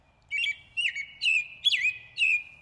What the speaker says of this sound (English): That's an American robin.